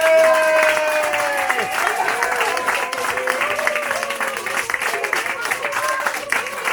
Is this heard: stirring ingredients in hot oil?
no